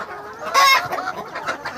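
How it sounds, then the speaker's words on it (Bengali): Chickens clucking close by, one louder squawking call followed by several short clucks in quick succession. "আমার এদিকে দেখুন কত মুরগি দেখুন"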